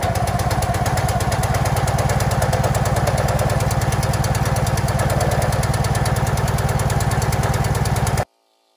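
A 30 ton NorthStar log splitter's small engine runs with a loud, close, rapid chugging throb, steady for about eight seconds before it cuts off abruptly into silence.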